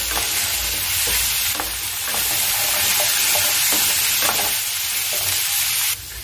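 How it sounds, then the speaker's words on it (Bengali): Jackfruit pieces frying in a pan with turmeric and chili powder give a loud, continuous sizzle broken by scraping stirs, close up and without any voice. "এবারে এটাকে আমি সুন্দর করে ভেজে নিব"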